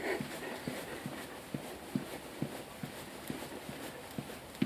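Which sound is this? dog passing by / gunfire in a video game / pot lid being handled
dog passing by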